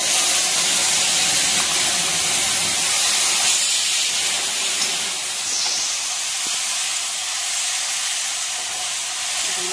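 Onion, garlic, ginger, cumin, coriander, green chilli and pepper sizzling in hot oil in a pan, a steady loud hiss that runs unbroken and close throughout.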